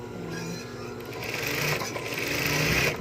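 A sewing machine stitches fabric close by with a steady, rapid mechanical whirring that grows slightly louder over a few seconds.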